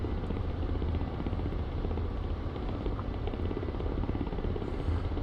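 A Ka-50 helicopter in the DCS flight simulator game drones with a steady, loud engine and rotor rumble, constant and unbroken with no talk over it.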